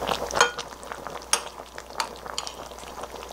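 A metal spoon skims fat off a pot of simmering duck perilla soup, giving light scraping clinks and scattered taps against the pot over a soft bubbling background. There is no speech.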